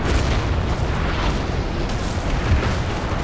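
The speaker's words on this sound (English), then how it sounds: "he better keep himself out of cannon shots then" Cannon fire in the Napoleon: Total War video game, heard as a dense, continuous rumble of booming artillery with overlapping bursts and no clear gaps between them.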